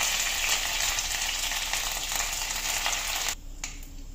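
Curry leaves and mustard seeds crackle in about 1.5 tablespoons of hot oil for vegetable daliya, a loud steady close-up sizzle that cuts off abruptly near the end.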